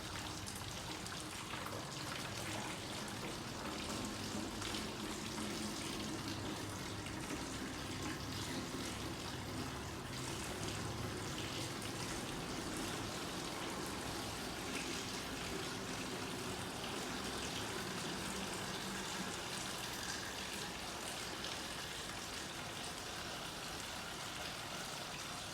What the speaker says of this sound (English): So now take it and just carefully pour it into the funnel.